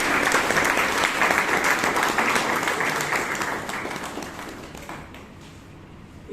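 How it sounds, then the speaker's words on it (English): An audience claps steadily in a loud, dense round of applause that gradually fades toward the end. "A loud round of applause,"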